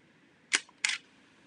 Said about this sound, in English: we're going to hear the shutter physically open and close